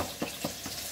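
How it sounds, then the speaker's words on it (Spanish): Food frying in a pan in a home kitchen, a soft steady sizzle with a few brief louder bursts, heard up close with no talk. "acá tengo otra que estoy fritando ya"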